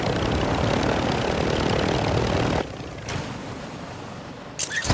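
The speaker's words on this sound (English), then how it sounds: "I'm about to ditch this helicopter." A helicopter in a video game, a loud continuous rotor and engine roar that cuts off abruptly halfway, leaving quieter residual noise and a brief sharp burst at the end.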